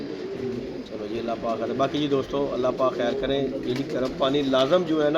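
Pigeons at a breeder's loft coo in soft, repeated throaty calls close by, running steadily beneath someone talking throughout.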